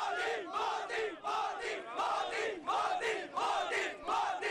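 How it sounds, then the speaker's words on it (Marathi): BJP party workers celebrating election results chant in loud rhythmic unison, a crowd of voices repeating a slogan in regular bursts with brief pauses between. "आपण पाहताय भाजप कार्यकर्त्यांचा हा जल्लोष जो आहे तो सुरू झालेला आहे"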